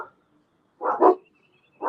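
Puppies bark in quick short yaps: one at the start, a double bark near the middle and another at the end, fairly close and alone with no talking.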